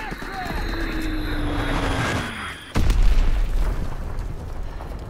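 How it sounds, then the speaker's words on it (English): A guided Azon bomb strikes in Call of Duty WWII, landing as a sudden heavy boom partway through after a steady aircraft drone, followed by rumbling noise. "Dropping Azon bomb."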